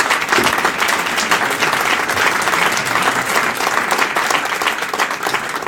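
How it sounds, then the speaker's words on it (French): Applause at a French awards ceremony for architects, landscapers and officials: dense, loud, sustained clapping from a close audience, even and unbroken throughout. "Vous pouvez les applaudir"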